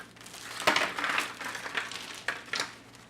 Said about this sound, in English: Step 1, liberate the ice from the ice cube tray.